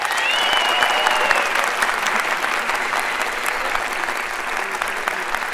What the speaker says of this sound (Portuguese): eu queria que vocês aplaudissem muito esse fenômeno